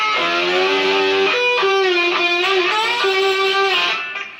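Electric guitar plays a sustained, bending solo lick, clear and loud, notes gliding and vibrating over several seconds before fading at the end, with no voices.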